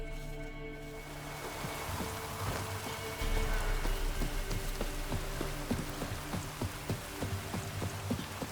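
Steady rain in the video game The Witcher 3: Wild Hunt patters on a surface, with scattered heavier drops ticking through a constant wash of rainfall; no voices.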